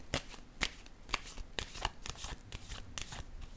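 Tarot-style cards shuffled and drawn by hand, with a string of sharp, crisp riffling snaps and flicks at an irregular rhythm, close and clear with no talking.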